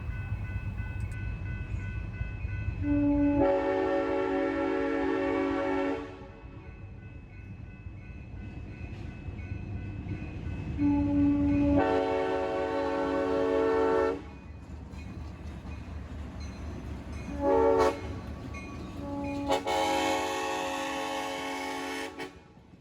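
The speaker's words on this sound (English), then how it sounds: "Hey, that eerie caboose is pretty fine" A vintage excursion train with a caboose rumbles past, its horn blowing in several long, loud blasts over the heavy rolling of the cars.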